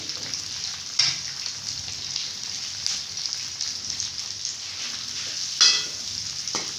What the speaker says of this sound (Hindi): घी हमारा गर्म हो चुका है। हम इसमें शामिल करेंगे ये प्याज और सब्ज़ मिर्च जो हमने काट के रखे हुए थे।